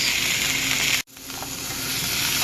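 Cheesesteak meat sizzles in a pan with a bright, steady crackling hiss, close up, broken by one sudden brief cut before the sizzle resumes; no talking.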